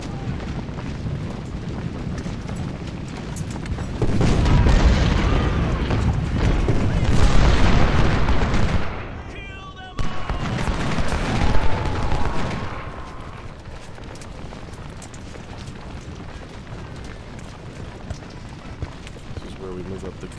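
Artillery booms and rolling gunfire from a Civil War battle at Bull Run in the Ultimate General: Civil War game, a dense burst of heavy rumbling volleys swelling in the middle, then quieter background battle noise, with someone talking over it.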